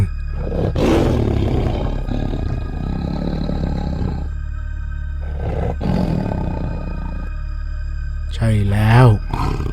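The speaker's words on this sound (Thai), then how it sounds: "กลิ่นสาบของเสือโคร่งตัวใหญ่ คูคำรามพร้อมที่จะกระโจนเข้าไปขย้ำเหยื่อของมัน" A large tiger ready to pounce on its prey gives repeated deep, rumbling roars and growls in several long bursts, loud and close, with a voice briefly heard near the end.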